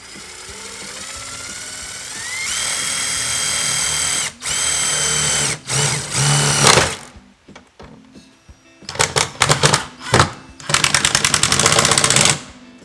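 A power drill drives small self-drilling pan-head screws while fitting an RV water inlet and door seal in a bus conversion, running in loud sustained whirring bursts with short pauses between screws.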